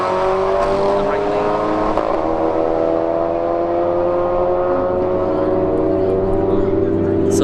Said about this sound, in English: All right, Civic Type R left lane, Camaro SS in the right lane.